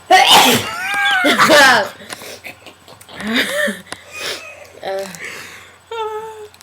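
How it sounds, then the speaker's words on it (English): A woman sneezes repeatedly, with sharp bursts and breathy gasps between them, interleaved with nearby talking and laughter. "Oh my god, she's gonna sneeze again."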